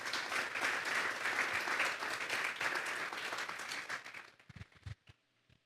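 A church youth service congregation applauds in a dense, even burst of clapping that fades out after about four seconds, leaving a few scattered claps and quiet.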